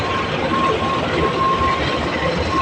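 A CC203 diesel locomotive and its train roll past with a continuous broadband rumble, loud and steady, a faint wheel squeal ringing above the noise.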